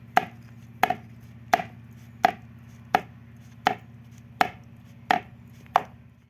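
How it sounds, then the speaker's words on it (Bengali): An aluminium bowl of Oreo biscuit cake batter is tapped down on a hard surface eight times at a steady, even rhythm. Each knock is sharp and close, and a low steady hum runs underneath throughout. "এবার আমি একটু বাটিটা ঠুকে নেব।"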